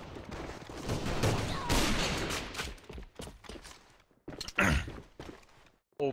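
Pistol fire in the online shooter AVA: several sharp shots in quick bursts, loud and close, separated by brief gaps and quieter game noise.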